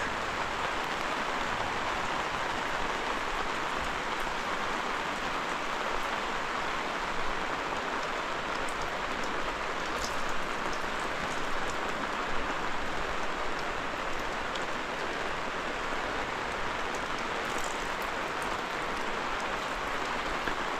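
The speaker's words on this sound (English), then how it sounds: "I thought I would turn the camera on for a minute while it was raining" Steady rain falls at a remote, foggy campsite in Appalachia as an even, continuous hiss of drops. It is moderately soft and unbroken for about twenty seconds, with only faint scattered patters standing out.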